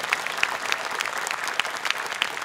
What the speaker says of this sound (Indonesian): Tepuk tangan buat Abi Amir Fazofat nih.